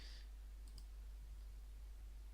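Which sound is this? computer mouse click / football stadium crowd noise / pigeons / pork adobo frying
computer mouse click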